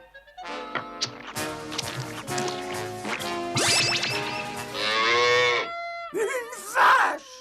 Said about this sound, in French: Une vache!